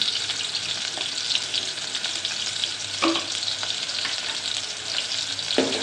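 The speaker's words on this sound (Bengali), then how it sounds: "বাগারের জন্য যা লাগে আর কি সেটাই দিলাম পেঁয়াজ রসুনটা একটু ব্রাউন কালার করে ভাজবো" Onion and garlic frying in oil to temper masoor dal, a steady close sizzle with occasional stirring scrapes and louder pops, no talk.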